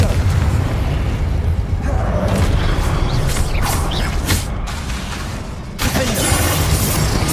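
A Confringo blast spell exploding in the Hogwarts Legacy video game, with loud booming bursts and crackling over a dense, continuous mix of combat effects and background music, a brief dip near the end before the din resumes.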